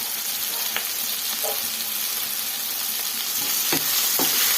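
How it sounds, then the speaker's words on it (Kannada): Food frying in oil in a pan on medium flame gives a loud, dense, continuous sizzle up close, broken by a few sharp scrapes and taps of a utensil. "ನೋಡಿ ಈ ಥರ ಆಯಿಲಲ್ಲೇನೆ ನಾವು ಫ್ರೈ ಮಾಡ್ಕೊಬೇಕು."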